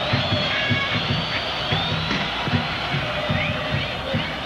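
Vasco da Gama supporters roar continuously across a packed stadium during the 1998 Libertadores final against Barcelona of Ecuador, a dense wall of crowd noise with a commentator's voice running over it.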